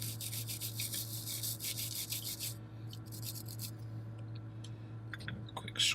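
A fingernail scrubs across a circuit board surface under a steady mains hum, a close, continuous rasping rub for about two and a half seconds before it thins out to a few faint scratches.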